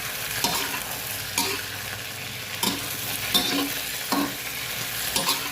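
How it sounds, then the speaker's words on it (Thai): Cabbage and tomato stir-fried with oyster sauce in a pan, giving a steady sizzle broken by several sharp clanks and scrapes of the utensil at irregular intervals, with no talking. "เราก็จะผัดให้ผักเขาเริ่มสุก"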